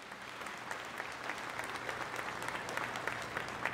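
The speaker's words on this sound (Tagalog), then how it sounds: "Isa pong malakas na palakpak sa Panginoon" Steady applause from a church congregation honoring the Lord during a worship service, a dense wash of many hands clapping evenly throughout without pause, moderately loud and somewhat distant.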